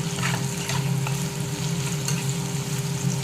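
Onions frying in refined oil in a pan for paneer fried rice, a steady close-up sizzle and crackle with occasional stirring scrapes and a faint constant hum underneath, no talking.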